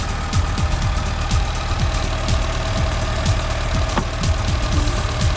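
A 1980s turbo hot hatch, a barn find left untouched for ten years, idles loudly and close with a rough, lumpy beat and steady knocking pulses throughout, no one speaking over it.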